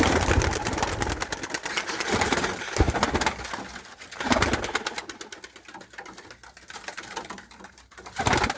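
Pigeons, including dark-coloured ones, coo and flutter in a loft, a busy, close mix of soft calls and scratchy rustling with occasional louder bursts and no voices.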